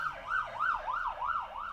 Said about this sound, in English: It's like they turned on their siren and then drove really,